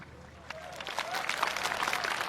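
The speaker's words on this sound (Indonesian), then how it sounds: "Ini kenapa jadi tepuk tangan, Bang?" An audience at an Islamic sermon breaks into applause that builds into a steady patter of many hands and continues to the end, with a voice heard briefly over it.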